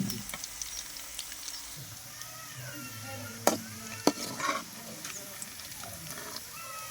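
Spicy chicken frying in a pan over a village-style wood fire, a soft, fairly faint sizzle with scattered sharp clicks and pops, a few louder knocks, and faint tonal whines in the background.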